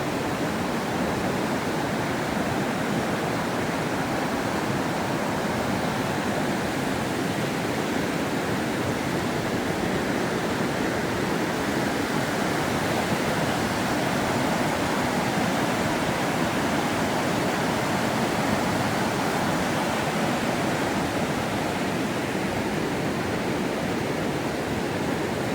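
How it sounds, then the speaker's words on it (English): Rushing water of the Spokane River at Bowl and Pitcher in Riverside State Park, a steady, loud, broadband roar that stays constant throughout with no talk. "Spokane River."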